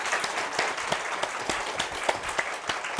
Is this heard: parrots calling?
no